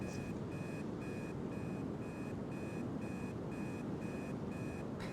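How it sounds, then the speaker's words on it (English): Alarm clocks in the ghost hunting video game Obsideo beep in a fast, regular series of about ten evenly spaced electronic pulses over a steady background hiss. "And then we had the alarm clocks."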